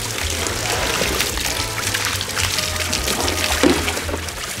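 Water pours steadily from a bucket into a slime-filled room, a continuous trickling splash with a low rumble beneath and a brief sharper splash near the end.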